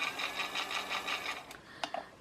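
Beauty Blender battery-powered mini washing machine for makeup sponges and brushes whirring in quick, even pulses, quiet and close, then stopping with a few sharp clicks.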